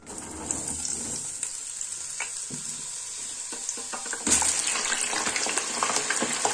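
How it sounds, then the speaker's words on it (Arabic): Potatoes frying in hot oil in a pot make a steady, close sizzling hiss that jumps louder midway as more pieces go in, then carries on crackling evenly. "هنبدا مع بعض بسم الله، وهننزل بالبطاطس بتاعتنا"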